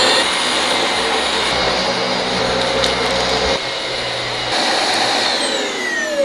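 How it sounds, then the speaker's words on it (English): A household vacuum cleaner runs loudly and close, a steady roaring whoosh whose pitch and intensity shift as the nozzle moves, with no speech. "I did some vacuuming."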